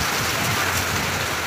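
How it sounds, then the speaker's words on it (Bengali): Heavy rain pouring steadily during a village storm, a dense, loud, continuous hiss of drops on surfaces close by, with no speech. "বিকাল হতেই না হতে মানুষের যেটা চাই সেইটাই হচ্ছে। বৃষ্টি হচ্ছে,"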